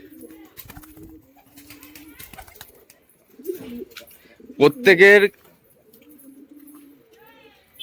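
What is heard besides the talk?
pigeons cooing in a loft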